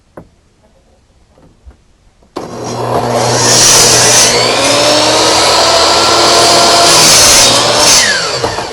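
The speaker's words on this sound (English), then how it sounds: "This miter saw is not quite long enough." A miter saw whines up and cuts through wood, a loud, close, sustained buzzing roar lasting several seconds after a few quiet knocks, with no talking.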